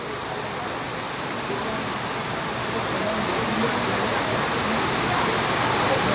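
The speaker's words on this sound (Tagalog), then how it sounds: "Kalakas-lakas ng ulan dito" Heavy rain pours steadily during the final game of an outdoor match, a dense, even hiss that slowly grows a little louder with no voices on top.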